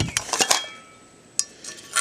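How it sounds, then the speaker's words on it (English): Metal pieces of a Trangia mini stove, the lid that doubles as a frying pan and the pans, clink and clatter in a few close, bright knocks, a quick cluster, a pause, then more taps. "We have the lid, which is also a frying pan."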